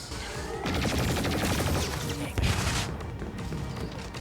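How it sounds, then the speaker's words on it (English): Rapid bursts of blaster fire from an animated Star Wars: Maul - Shadow Lord action scene, a dense repeated volley with one heavier impact midway, set against soundtrack and effects. "The gun shoots a lot."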